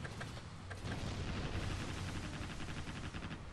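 Machine guns firing in the naval combat game Warship Gunner 2, a dense continuous rattle of rapid shots with heavy rumbling booms underneath.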